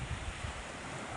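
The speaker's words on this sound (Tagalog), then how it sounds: "malakas po ang hangin" Strong wind at sea roars steadily past a fishing boat, buffeting the microphone with a dense, unbroken rush and low rumbling gusts.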